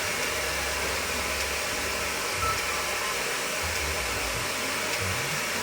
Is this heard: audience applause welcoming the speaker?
no